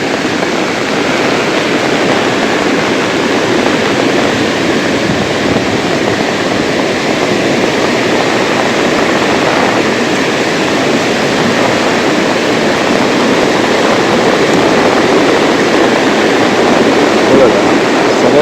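A river in flood, its water rushing with great force, fills the scene with a loud, steady, broadband roar that stays constant throughout, with no pause and no voices.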